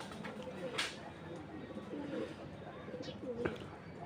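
Pigeons kept on rice feed cooing softly near and far, a few low rolling coos scattered over faint background noise with light chirps.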